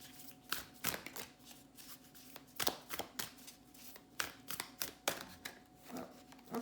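Tarot cards with good-quality card stock are riffled and shuffled by hand, a series of sharp, close flutters and taps in irregular bursts, fairly quiet with no talking.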